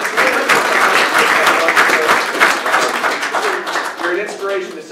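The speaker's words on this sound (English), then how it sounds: "Let's give a round of applause to everybody here." An audience at a talk on plant-based eating breaks into dense, steady applause, loud and close, filling the whole stretch with a few voices mixed in.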